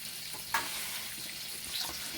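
Food for bacon cheeseburgers sizzles in bacon grease with a steady, soft hiss and a couple of faint pops, no voices.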